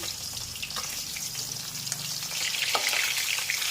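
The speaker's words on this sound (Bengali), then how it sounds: "এই হয়ে যাচ্ছে আমাদের মাছ ভাজা" Rohu fish frying in hot oil, a continuous close crackling sizzle with small popping spatters that grows a little louder toward the end.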